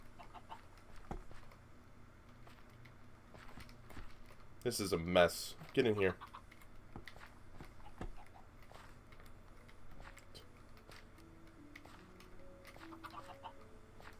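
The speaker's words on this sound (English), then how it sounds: "Come here, chicken." Chickens clucking in modded Minecraft, a short burst of bird calls in the middle while someone talks intermittently over quiet background game sounds.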